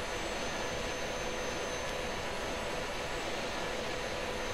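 A fighter jet engine throttles up in the Falcon BMS flight simulator, giving a steady, dense roar and whine that holds level throughout with no voices.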